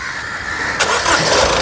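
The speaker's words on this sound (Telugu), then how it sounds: "సింగిల్ సెల్ఫ్లో కార్ స్టార్ట్ అవుతుంది ఇంజన్ యొక్క నాయిస్ కూడా చాలా స్మూత్గా ఉంది" A Honda WR-V car engine cranks briefly and fires on a single press of the starter, then settles into a smooth, steady idle, close and fairly loud with no one talking.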